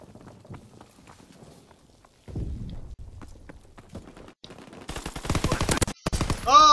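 Hip-fire gunshots in Call of Duty: World War II ring out as a fast cluster of loud sharp shots near the end, after quieter game footsteps and ambient effects, with a short rattle of fire following.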